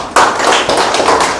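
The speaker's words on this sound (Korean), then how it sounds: "박수" A lecture audience in a university hall claps in a few loud, sharp unison beats, close and distinct, with brief pauses between them.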